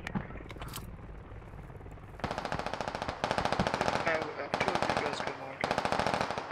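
Bursts of automatic rifle and machine gun fire in the Squad military shooter game, a few fast sustained volleys, loud and close, with a player's voice chatting over it.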